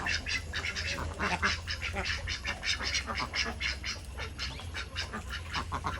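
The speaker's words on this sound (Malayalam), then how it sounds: "താറാവുകളും കോഴിയൊക്കെ ഇവിടെ തന്നെ കേട്ടോ" Farmyard ducks and hens mill about after their morning feed, a dense, continuous chorus of overlapping quacks and honks close by, with a faint voice mixed in at times.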